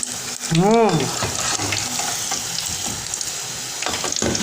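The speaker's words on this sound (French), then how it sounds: "Nous allons les retourner de temps en temps et voir combien elles sont en train de dorer." Cassava balls (agbeli canklo) fry in hot oil while being turned, with a dense, steady crackling sizzle and a brief tonal squeak near the start.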